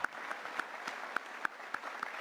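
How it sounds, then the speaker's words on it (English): A crowd at a country music awards show claps in a steady, moderately distant round of applause, with a few sharper individual claps standing out. "Let's give them a round of applause in this beautiful facility"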